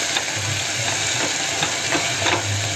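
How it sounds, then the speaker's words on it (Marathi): Finely chopped onion sautéing in a pan for a spicy okra dish, a loud, continuous close sizzle and hiss with soft periodic stirring scrapes throughout. "आता कांदा चांगला आपण हा परतून घ्यायचा"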